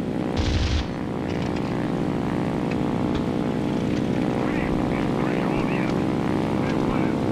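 Italian fighter plane in War Thunder, its propeller engine droning loud and steady throughout with a dense harmonic hum and a brief burst of other noise near the start.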